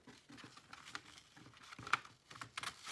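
Paper for a planter template is cut by hand, a quiet close run of small snips, crinkles and taps in irregular rhythm with no talk.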